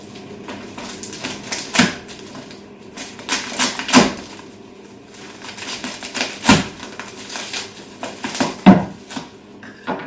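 A well-packed parcel sliced open with a pocket knife: scattered sharp taps, scrapes and cardboard tearing in uneven bursts, close and moderately loud, with no talk.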